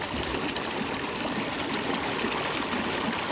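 Mountain spring water pours steadily from a pipe that carries it down to houses in a valley, a close, continuous trickling gush with no voices.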